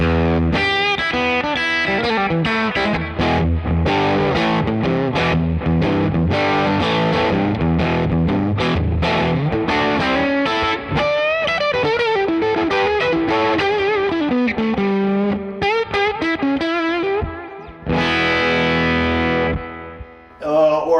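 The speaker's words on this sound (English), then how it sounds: "it's just a nice organic distortion, 70s kind of, you know, distortion right now" Overdriven electric guitar with a warm, organic 1970s-style distortion suited to blues, played in a studio as a continuous stretch of chords and single-note lines at steady loudness, with a brief pause near the end.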